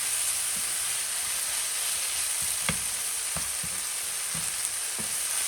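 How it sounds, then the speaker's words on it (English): Vegetables for a vegetarian omelet sizzle steadily in a pan, a constant loud frying hiss with occasional soft clicks and scrapes of stirring, no talking. "And we cook everything in the same pan."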